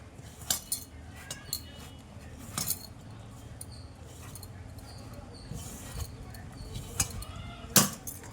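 Okra pieces stirred into pakora batter in a bowl, with a spoon scraping and clinking against the sides in irregular taps and a few sharper knocks, close and fairly quiet over a soft background hum.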